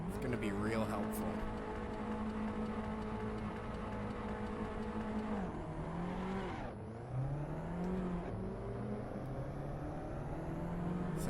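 Race cars starting a race in Assetto Corsa: a steady engine drone holds, then drops as gears shift, and the revs climb again. Loud and continuous, with a voice talking over it.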